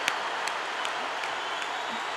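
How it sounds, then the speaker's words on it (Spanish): Audience at the Viña del Mar festival in Chile breaks into sustained applause, a dense, steady wash of clapping from a large crowd that fills the whole stretch without letting up. "Y eso hoy día se valora con este aplauso, con este público"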